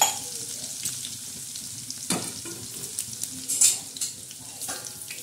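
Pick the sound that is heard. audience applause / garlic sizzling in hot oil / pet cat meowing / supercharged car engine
garlic sizzling in hot oil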